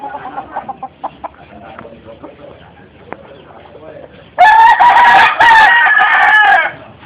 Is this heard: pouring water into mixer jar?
no